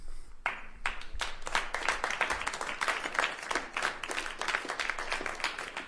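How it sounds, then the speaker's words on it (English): A crowd applauding, steady dense clapping that starts abruptly and continues throughout, fairly close and even in loudness. "Round of applause"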